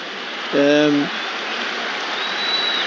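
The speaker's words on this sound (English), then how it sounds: "Baker just getting the applause." Football crowd applauding Stoke City midfielder Lewis Baker at a Championship match against Birmingham City, a broad distant wash of clapping that swells briefly then settles into steady crowd murmur, with a commentator's voice over it.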